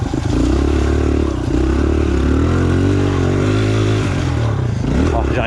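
A Suzuki DR-Z 125 dirt bike revs hard with constant wheelspin in slick, greasy mud, its engine loud and close, droning continuously with rising and falling pitch.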